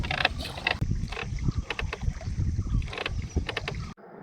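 A wooden country boat is rowed across water on a trip to a tribal hamlet in Thiruvananthapuram: repeated close oar strokes, splashes and dripping knocks in an uneven rhythm, with no talk, ending abruptly.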